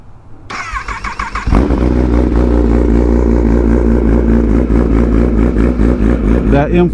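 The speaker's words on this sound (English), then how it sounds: "let's get the cold start going with her." A motorcycle with an M4 slip-on exhaust cold-starts: a starter whir, then the engine catches into a loud, steady idle with a deep rumbling pulse that holds close to the microphone.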